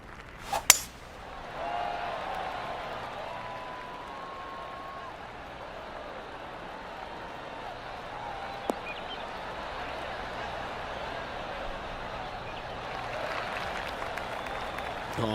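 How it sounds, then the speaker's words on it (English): Steady polite golf crowd applause in the video game PGA Tour 2K23, sustained throughout with a sharp crack near the start and a voice talking over it faintly. "Oh, golf clap."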